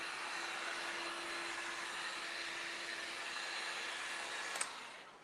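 A dryer blows over freshly stenciled wine-themed decor: a steady, close whooshing drone with a faint steady hum that holds unbroken, then cuts off just before the end.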